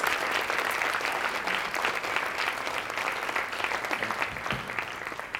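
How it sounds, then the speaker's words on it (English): Conference audience applauding its speakers, a dense, steady roar of clapping hands sustained at even loudness throughout. "give these speakers one last round of applause"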